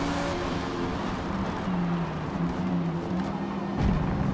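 Forza-style racing game KTM GT2 race car at Le Mans, a steady engine drone with shifting harmonic tones as it runs down the straight, continuous and close, with a brief rising pitch near the end.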